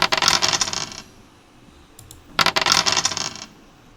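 A dice-rolling sound effect plays in a Flutter mobile app: two separate bursts of bright clattering rattle, each about a second long, with a short quiet gap between them.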